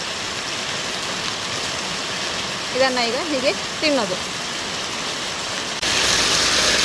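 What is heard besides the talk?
monsoon rain falling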